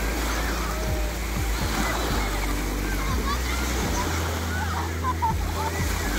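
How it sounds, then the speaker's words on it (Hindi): Ocean waves surging and splashing steadily on a beach, a continuous wash of surf with low rumbling beneath, while people talk nearby throughout. "लहरें अब तेज हो रही हैं ना"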